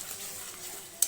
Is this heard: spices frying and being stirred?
yes